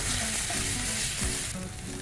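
Ginger, green chili and garlic paste sizzles steadily in hot oil with onions in a pan, a close, continuous frying crackle with faint stirring scrapes and no talk.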